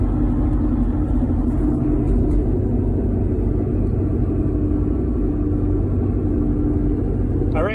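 Steady low rumble of road and engine noise inside a Jeep Cherokee XJ cabin cruising at 55 mph, constant and droning throughout with no notable changes.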